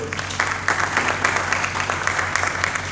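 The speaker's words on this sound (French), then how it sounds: "Vos applaudissements, s'il vous plaît." An audience applauds a professor at a university congress of the Archdiocese's university chaplaincy. Steady, close clapping fills the whole short stretch, with individual claps standing out over a low hum.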